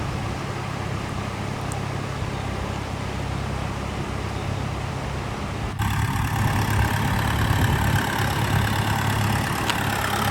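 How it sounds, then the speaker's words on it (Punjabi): A tractor engine runs steadily while dragging a levelling plank across a flooded paddy field, a low, unbroken rumbling drone that grows slightly louder and fuller partway through. "ਹੁਣ ਦੇਖੋ ਟਰੈਕਟਰ ਥੋੜਾ ਆਪਣਾ ਵੀ ਡੋਲ ਤੋਂ ਦੂਰ ਨੂੰ ਮੁੜੂਗਾ"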